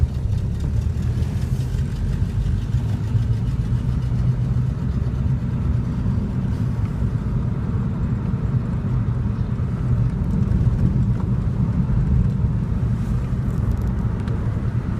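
A flathead-engine car runs steadily nearby, a dense low rumbling idle that holds an even, continuous drone with little change in speed for the whole stretch.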